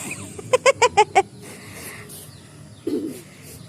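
A chicken gives a quick run of five sharp, evenly spaced clucks up close, followed by quieter rustling and a short low squawk.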